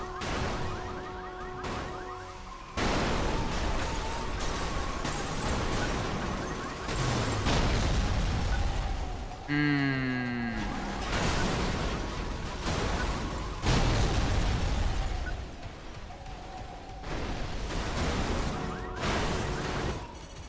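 Car crash explosions in the racing game Burnout 3: Takedown, loud bursts and smashes over a steady engine roar, with several impacts spread across the stretch and a swooping wreck sound midway.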